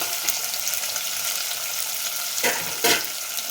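Onions frying in a pan for Pallipalayam chicken, a loud continuous sizzle with a couple of brief stirring bursts near the end, no voices.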